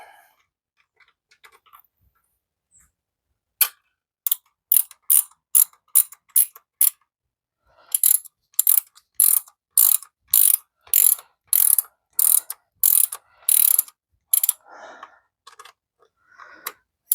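A hand ratchet tightens bolts on a 1950 Farmall Cub tractor, giving rapid loud clicking bursts in repeated strokes with short pauses between, close up and with no talking.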